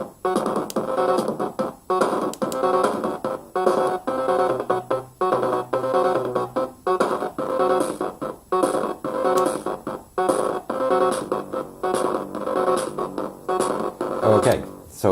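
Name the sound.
drum kit sequence on Casio XW-PD1 after changing kit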